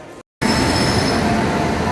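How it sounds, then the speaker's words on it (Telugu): The Janmabhoomi Express from Visakhapatnam pulls into a station platform, a loud, steady rumble of rolling wheels and carriages that starts abruptly after a brief gap and continues close by. "ప్లాట్ఫామ్ నెంబర్ 3కి జన్మభూమి ఎక్స్ప్రెస్ వచ్చిందండి"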